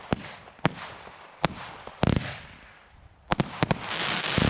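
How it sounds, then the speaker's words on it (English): Lidl consumer fireworks fire fanned volleys in sharp, rapid bursts, with clusters of crackling bangs and a dense hissing wash in between, close and loud. "3 rows of fanned volleys there at the end."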